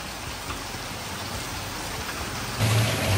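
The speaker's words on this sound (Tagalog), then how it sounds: "Grabe, umulan kami." Rain falling in Sapa, Vietnam, a steady broadband hiss of drops that swells louder near the end, with no voices over it.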